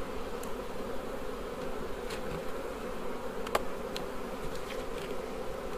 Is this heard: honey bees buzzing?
yes